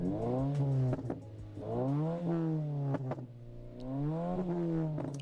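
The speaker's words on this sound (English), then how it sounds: "Put this on a tripod, put it outside, do some rev skis" A vehicle engine with a popcorn exhaust tune revs up and down in three long sweeps, with sharp crackling pops between them, loud and close, alone without talk.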